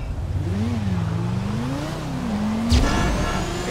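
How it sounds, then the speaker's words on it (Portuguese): A car in GTA V accelerates with a continuous engine drone whose pitch climbs and dips as it revs through gears, followed by a brief sharp burst near the end, with no talking. "eu acho que eu vou acelerar"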